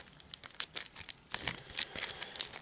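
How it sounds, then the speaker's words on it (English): A deck of grey Arkham Horror game cards is shuffled and cut on a tabletop: a quick run of crisp riffling and papery crinkling clicks, close and fairly soft, with no voices. "a perfunctory shuffle and a cut,"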